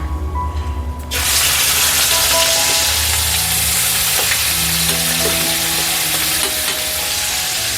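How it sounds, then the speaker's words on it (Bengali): Onion paste dropped into hot oil for a hilsa makhani dish bursts into a loud, steady sizzle that holds throughout, with occasional scraping and clinking from stirring in the pan. "আমি এই তেলের মধ্যে পেঁয়াজ বাটাটা দেব।"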